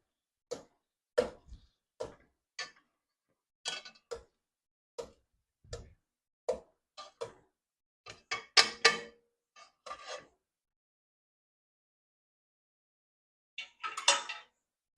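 Potato masher pressing into a cooked plantain mixture in a pot while making Onam payasam, a series of soft irregular clinks and squishy taps, near and isolated, with pauses between strokes.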